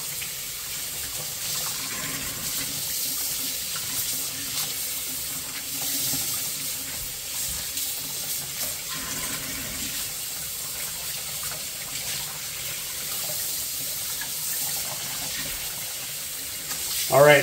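Tap water pours steadily into a kitchen sink while bacon is rinsed under it, making a continuous hissing gush with small splashy fluctuations. A brief louder splash comes at the very end.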